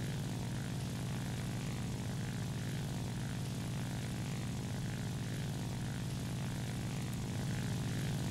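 The XP-55 Ascender, a pusher propeller fighter in War Thunder, drones with a steady, continuous engine and prop hum, low and even in level throughout, with no voices.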